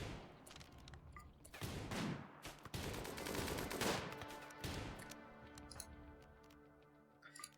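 Gunfire in a desert colony survival game, scattered shots and rapid bursts popping at varying distance, fairly faint overall, with ticking interface clicks toward the end.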